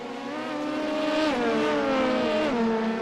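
A race car engine that seems to have a loose spot drones loud and steady at high revs, its pitch climbing and then dropping in stepped shifts during a close on-track battle, with no voices.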